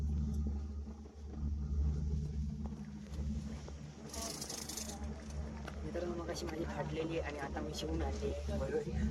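A bus on the road to Raigad fort gathers speed, its engine giving a low steady rumble that swells slightly, with people chatting inside over the drone.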